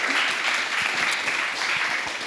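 Steady broadband applause from a live audience at a music producer talk, filling the clip continuously at close, loud level with no gaps.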